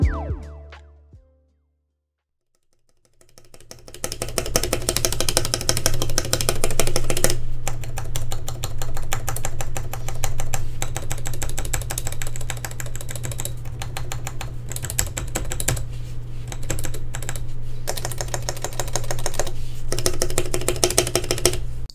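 A modded EPOMAKER EP84 mechanical keyboard with lubed stabilizers and case foam is typed on steadily after a brief silence, giving a dense, close run of even clacking keystrokes with no talk.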